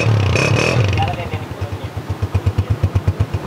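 A 2023 Honda 125 motorcycle engine starts with a loud, brief burst, then settles into a steady, close, thumping single-cylinder idle with an even pulsing rhythm.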